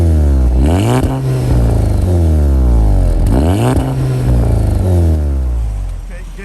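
A VW Golf MK6 GTI with a DSG gearbox and its stock exhaust is revved up twice while parked, each rev rising and falling in a loud, close engine roar before it settles back to a steady idle.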